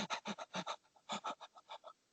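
A person imitates a dog's panting with quick rhythmic breathy huffs, about fifteen short bursts in steady succession, close and fairly loud, tailing off toward the end.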